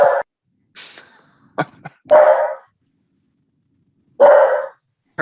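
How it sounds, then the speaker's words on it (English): A dog barks several times in a loud, irregular series of sharp barks and yips, close by, with pauses between them. "hard to compete with a dog"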